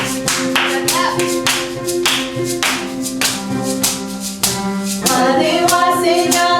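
Children at a church service clap in a steady rhythmic beat, with bright, sharp hand claps continuing throughout alongside some singing or chanting voices.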